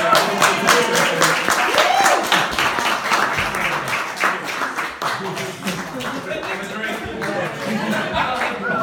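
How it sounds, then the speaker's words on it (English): An audience at a Hisense TV product launch breaks into sustained applause, many hands clapping loudly and steadily, with some crowd voices mixed in. "a massive round of applause"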